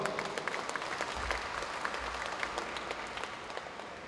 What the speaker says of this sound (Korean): 여러분 뜨거운 박수로 환영해 주시기 바라겠습니다